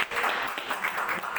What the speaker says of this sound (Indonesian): Oke, tepuk tangan untuk timnya dulu ya.